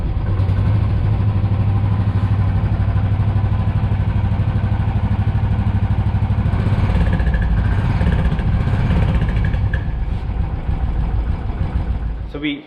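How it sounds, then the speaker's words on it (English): A motorcycle engine, just fitted with a new exhaust pipe, runs steadily and loudly with a deep throbbing idle and occasional revs, close by and without a break. "Let's start up the bike."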